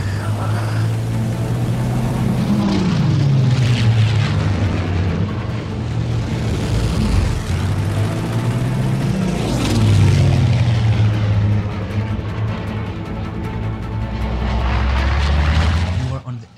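Propeller engines of WWII Messerschmitt 109 fighter planes drone loudly and continuously, rising and falling as aircraft pass, in a dramatic film battle scene over a minesweeper, with dense music or effects layered underneath.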